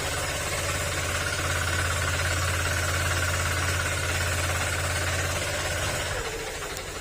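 A Honda Click 125 scooter engine with a crankshaft fault idles steadily with a rapid metallic knocking rattle running through it, close and continuous, easing slightly near the end.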